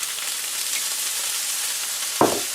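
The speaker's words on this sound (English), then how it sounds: "I really hear it sizzling up" Sweet potato hash fries in hot oil in a pan, giving a steady close sizzle throughout, with a brief louder scrape or stir near the end.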